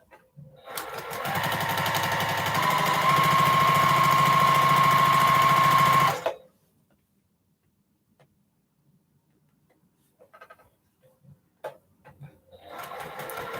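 A sewing machine stitches steadily for about six seconds, a loud, even mechanical whir with rapid ticking, then stops; faint scattered handling sounds follow before another burst of stitching starts at the end.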